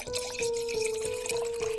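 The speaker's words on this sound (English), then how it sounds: "I pour the deep red wine into her glass first." Deep red wine poured into a glass, a steady liquid stream with a rising gurgle and faint tonal ring, close and continuous with no talking.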